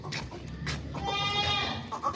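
A healthy, plump male goat offered for Qurbani bleats in a long, nasal, wavering cry that comes loud and near over faint background noise.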